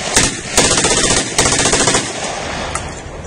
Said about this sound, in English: So now I'm going to demonstrate for you the Thompson submachine gun.